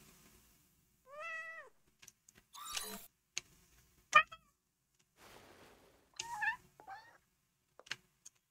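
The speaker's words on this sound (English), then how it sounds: "Reminds me of the cat sounds that they used in Stray." A video game cat meows several times in short, rising-and-falling calls spaced apart, with small clicks and rustles between them in an otherwise quiet scene.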